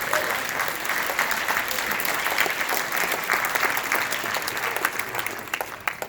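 Sustained applause from an audience at an urban action showcase event, loud and steady throughout with dense clapping and a few crowd cheers mixed in.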